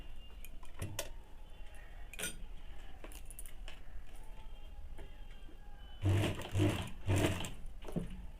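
A sewing machine stitches piping onto a two-piece Bombay cut blouse, first as faint ticking and light clicks, then three loud, close bursts of running stitches near the end.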